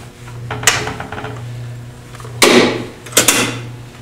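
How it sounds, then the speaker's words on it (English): Drive belts on a wood lathe being shifted by hand to the lowest 500 RPM speed setting, a few clunks and metallic knocks over a steady low motor hum, close by. "So I come down here, move the belts to 500 RPM."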